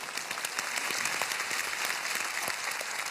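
Audience applause on a children's TV singing show, a steady crackling wash of many hands clapping at moderate, slightly distant level, with a faint sustained tone running through it.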